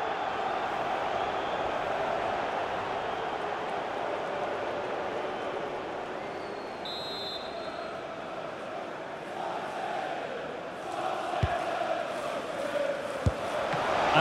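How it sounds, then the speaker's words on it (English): A stadium crowd in FIFA 23 during a Tottenham vs Chelsea Premier League match as Spurs push to equalise: a constant, distant roar of fans that swells slightly near the end, with a couple of brief thumps and no commentary. "Well, just listen to the crowd."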